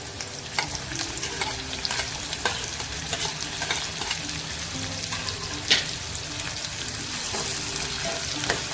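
Crushed garlic cloves and finely chopped onion sautéed in a pan, a steady close sizzle with repeated stirring and scraping strokes and faint tonal sounds beneath.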